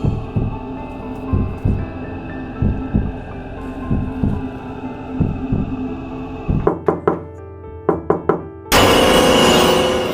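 Someone knocks on a closed door at home: steady, evenly spaced dull thuds over a low hum, then a quicker cluster of raps, ending in a sudden burst of loud broadband noise.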